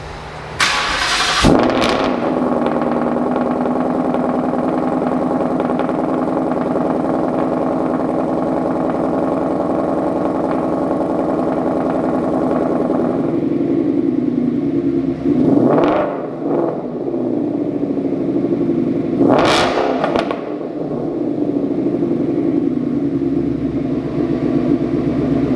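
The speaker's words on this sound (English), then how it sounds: "this car also is equipped with Kooks Headers as well as their Green Cat connection pipe, so it is going to sound a little different" Ford Mustang fitted with Kooks headers, a Green Cat connection pipe and an AWE Touring catback exhaust fires up with a loud crack, then settles into a steady, rumbling idle, broken late by two sharp blips of the throttle.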